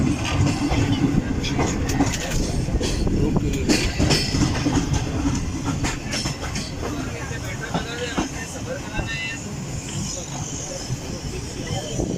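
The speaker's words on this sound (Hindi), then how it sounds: "हमारी ट्रेन एंटर हो चुकी है नवाबशाह शहर में" The 41 UP Karakoram Express rolls along its rails into Nawabshah, heard from inside the last coach as a loud, continuous rumble with rhythmic clickety-clack and occasional hiss, with faint voices underneath.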